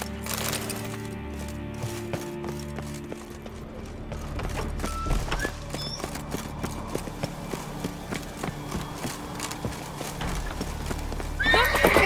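A horse in The Witcher 3: Wild Hunt gallops with rhythmic clip-clopping hooves, neighs and whinnies, over game music and ambient effects, with a brief burst of movement near the end.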